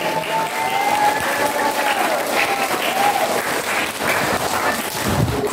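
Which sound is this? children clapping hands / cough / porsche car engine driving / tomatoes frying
children clapping hands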